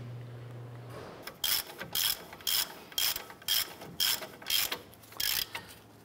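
A hand ratchet snugs down steering knuckle bolts on a 2011-2018 Ram 1500, giving about eight quick, evenly spaced bursts of clicking, close and crisp against a quiet garage background.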